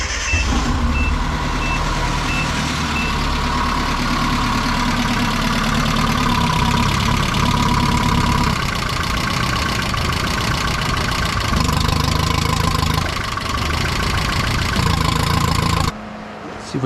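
Datsun engine idling with an old rusty muffler, a loud steady rumble with rough mid-range roar and a faint beeping early on, continuing almost unchanged until it drops near the end.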